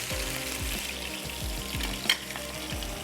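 Chicken tossed in cornflour, salt and black pepper shallow fries in a pan, a constant sizzle over repeated low scraping thuds from stirring, with one sharper clack toward the end, close and without speech.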